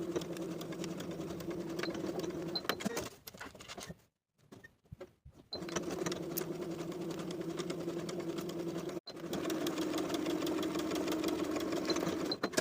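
A sewing machine stitches the side seams of a pair of shorts, running in a fast, steady mechanical whir that stops for about two seconds and then resumes with a short backstitch burst.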